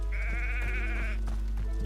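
A goat in the video game Hogwarts Legacy gives one loud, wavering bleat, close and alone over a low background hum, followed by faint soft thuds.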